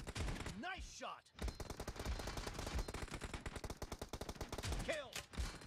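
Rapid gunfire from a video-game S686 shotgun during a team deathmatch, with dense, repeated sharp blasts filling the clip. A brief voice-like sweep comes through near the start and again near the end.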